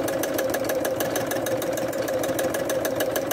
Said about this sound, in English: Now I have the machine set up to stitch number 29, which is a scallop stitch.